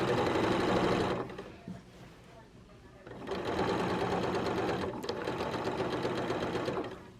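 A sewing machine stitches the side seams of a skirt, running in two long, steady bursts separated by a quieter pause with light handling noise.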